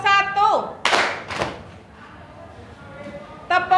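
Schoolchildren in a classroom clap a short pattern, a couple of sharp broad claps amid voices, with speech at the start and end.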